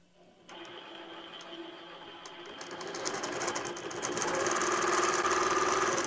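An INNOVA AutoPilot longarm quilting machine starts stitching text onto a quilt, a steady mechanical whir and rapid needle chatter that ramps up in speed and loudness.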